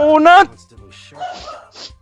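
A dog in the game Ragnarok Origin gives a short whiny bark or yelp up close, followed by quieter voices talking.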